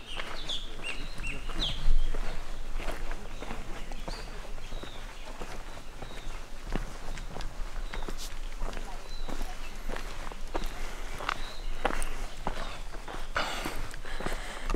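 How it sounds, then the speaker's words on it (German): Many birds chirp and twitter outdoors in Munnar, Kerala, a dense scatter of high calls through a constant ambient wash, mixed with footsteps on the ground and occasional nearby speech. "Ich bin jetzt gleich mal ganz leise, weil hier gibt es ganz viele Vögel."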